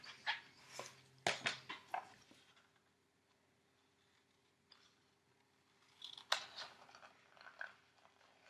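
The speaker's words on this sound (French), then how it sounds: "Je vais le découper." Scissors cut paper for a scrapbook Easter basket craft: close, crisp snipping and crunching in a cluster of short bursts, a long quiet pause, then another brief flurry of cuts.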